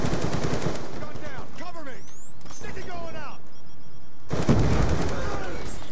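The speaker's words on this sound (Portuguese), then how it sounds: "Você atirar e as balas parece que vai pros lados e não vai pra direção do cara" Gunfire in the video game Black Ops 2, rapid automatic bursts cracking close and loud at the start and again near the end, with speech-like chatter and swooping game effects in the quieter middle.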